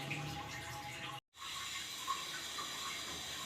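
About 1.5 litres of water pours steadily from a tap into a pressure cooker on the stove for dal, a faint continuous gushing and splashing that briefly cuts out, then resumes.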